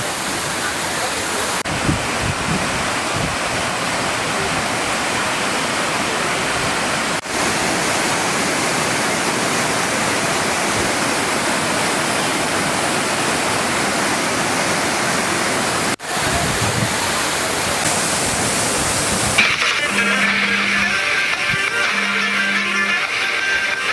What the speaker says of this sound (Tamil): குற்றாலத்தில் அனைத்து அருவிகளிலும் குளிப்பதற்கு அனுமதி அளித்துள்ளதால் சுற்றுலா பயணிகள் மகிழ்ச்சியுடன் குளித்து வருகின்றனர்